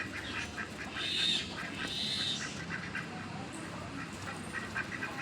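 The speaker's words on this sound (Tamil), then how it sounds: "இங்கே பார்த்தீங்களா நம்ம வீட்டுக்கிட்ட எத்தனை வெள்ளை வாத்து மேயுதுன்னு." White ducks quack a few times at a moderate distance while grazing, with soft outdoor background noise between the calls.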